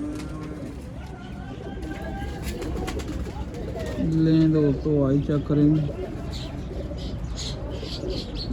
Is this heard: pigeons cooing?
yes